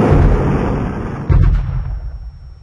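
Cannon and rocket fire in a Unity networked space shooter, heard as a loud sustained rumbling blast that cuts out briefly and then bursts again before fading away.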